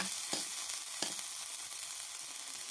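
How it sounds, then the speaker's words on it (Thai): Food stir-fried in oil in a pan over medium heat, a constant close hiss of sizzling with a couple of brief scraping strokes of the spatula, no voices. "แล้วเราก็จะคั่ว กลับไปเรื่อยๆนะคะ เราก็จะคั่วแบบนี้นะคะ"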